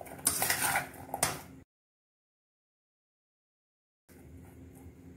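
Chili flakes and asafoetida being stirred with a spoon in a bowl for a snack batter, giving close metallic scraping and clinking for about a second and a half, then silence, then softer handling noise.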